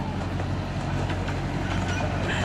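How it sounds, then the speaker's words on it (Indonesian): A small train rolls past a forest campground area in Arkansas, a steady rumble with light clacking that holds evenly throughout, fairly close and without talk. "Ada kereta kecil."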